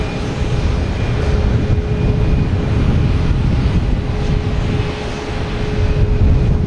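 A JetBlue Airbus A220 taking off, a loud continuous engine roar with a low rumble and a faint steady whine, heard from nearby without a break.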